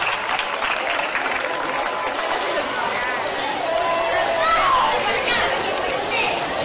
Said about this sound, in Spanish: Le pido un fuerte y caluroso aplauso.